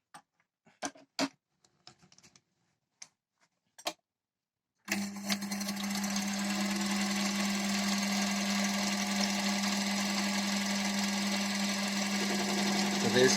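A mini lathe takes a 2 mm depth of cut on roughly 22 mm steel stock with a high-speed steel chip breaker tool. A few sparse clicks are followed by a steady, close machine drone and cutting noise that continues to the end.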